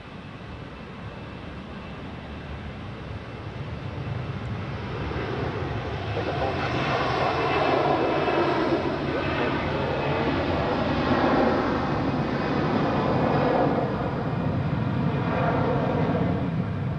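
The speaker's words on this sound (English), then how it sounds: "let's take a look at the second Edelweiss A350 now on short final for runway" An Edelweiss Airbus A350 on short final to land on runway 14 at Zurich Airport, its jet engine roar building from distant to loud and holding as a steady broadband rush with no voices.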